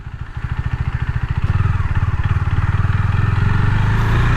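KTM Duke 390 BS6 motorcycle engine held at a steady, throbbing idle and low revs during a slow U-turn, close and loud, with a pulsing exhaust note that firms up and rises slightly partway through.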